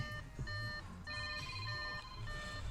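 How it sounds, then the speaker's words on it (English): A telephone rings faintly with repeated bursts of bright electronic tones, pausing briefly between each ring. "there goes the phone"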